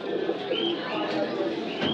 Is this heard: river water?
no